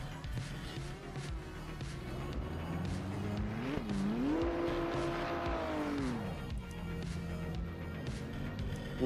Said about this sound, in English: Nice little burnout in the pit lane.